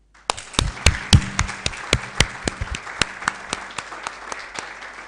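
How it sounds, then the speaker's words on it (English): A small audience at a project kick-off meeting claps for the team: sharp, separate hand claps from a few people, quick at first, then sparser and fading over about five seconds. "And let's give them a big round of applause."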